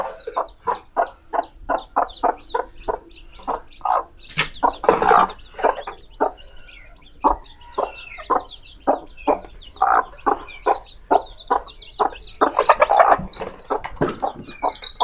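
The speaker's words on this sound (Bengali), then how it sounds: "আমার কিছু মুরগি আছে" Backyard chickens and their chicks cluck in a steady run of short, rhythmic calls close by, with a few louder flurries of squawking mixed in and no talking.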